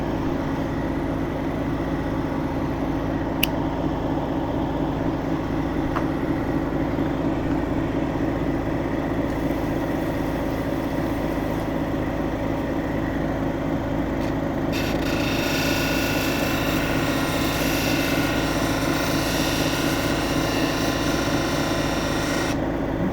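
A lapidary machine grinds a lace agate cabochon while it is shaped for pendant and earring stones. The rough, steady rasp continues without a break against a constant motor hum, and a brighter hiss of grinding rises in the later part.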